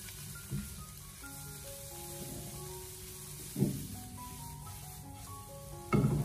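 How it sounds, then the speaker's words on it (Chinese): Side vegetables for chow mein stir-fried in a wok over high heat: a steady sizzle runs throughout, with sharper scraping tosses near the start, middle and end, over faint background music. "我们开大火给它快速的翻炒1到2分钟"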